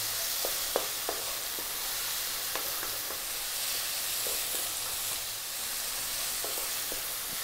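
Vegetables for a mushroom tom yum soup stir-fry over high heat, a loud, continuous sizzle close up, punctuated by scattered light clicks of the utensil against the pan.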